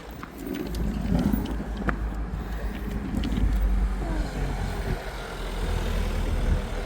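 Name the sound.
car approaching on road near coastal path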